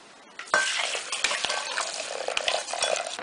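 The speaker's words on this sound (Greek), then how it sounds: "Μέσα στον τραχανά θα ρίξουμε το 1 κιλό βραστό νερό." Boiling water poured from a pot into trachana for a syrupy Greek pie, starting abruptly as a steady close splashing, bubbling stream with small clinks of a pan or utensil, and no voices.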